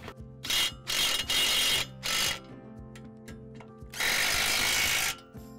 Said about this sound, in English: the nuts are started on the 2 U-bolts. We'll center this right between these 2 row units, and we'll go ahead and get these tightened up right away